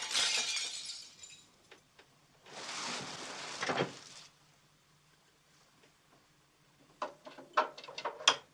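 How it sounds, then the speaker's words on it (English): Glass shatters in a dark night setting, heard as a short crash burst, then a longer smashing spray of breaking shards, followed after a pause by scattered tinkling and clattering pieces, fairly faint overall. "I think somewhere in the night a window smashed."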